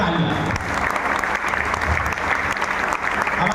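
Loud, sustained applause from a seated audience at an Asclepius Wellness Private Limited company event, dense clapping filling the whole stretch with faint crowd murmur underneath.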